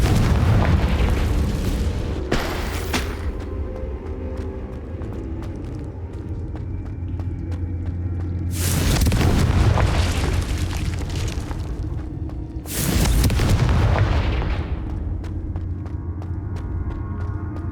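Confringo spell explosions in Hogwarts Legacy on Switch hit as three heavy booms, one early and two later, each a loud burst that rumbles away over quieter in-game background sound.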